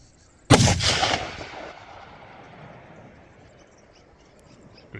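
A single loud rifle shot cracks out during a free-range red and fallow deer hunt in the rut, then echoes and rolls away across open country over several seconds.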